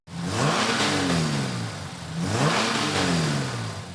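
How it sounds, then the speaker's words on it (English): Several Holden car engines rev hard in two long swelling bursts, pitch rising and falling with each throttle push, loud and close with no talking. "Revving their engines for the last time."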